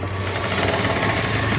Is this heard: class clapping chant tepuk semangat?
no